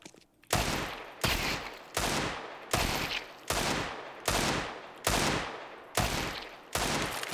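Spaced single gunshots in Counter-Strike, eight sharp loud cracks at a steady rhythm about once per second, each decaying quickly before the next, with no talk.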